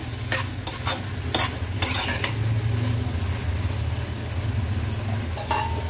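Squid (makli) with salt being sautéed in a pan, a continuous loud sizzle with repeated scraping strokes of a spatula against the metal, close and steady throughout.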